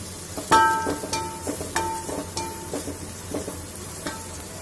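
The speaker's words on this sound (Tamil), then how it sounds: "இப்போ எண்ணெய் நல்லா காஞ்சிடுச்சு. இதில் கட் பண்ணி வச்சுருக்க வெங்காயத்தை போட்டுடலாம்." Chopped onions hit hot oil in a pan for fried rice, giving a soft steady sizzle broken by scraping and clinking stirring strokes at an uneven rhythm, close and moderately quiet with no talk.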